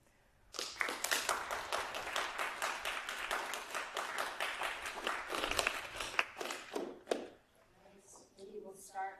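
Audience applause in a room after a physics club talk on 21-centimeter cosmology, dense rapid clapping that swells and then thins out toward the end, with a voice briefly heard as it fades.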